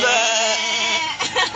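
A person imitates a goat during a youth camp group skit, giving a wavering, nasal bleat that holds steady and then breaks into shorter quavering pulses, close and fairly loud.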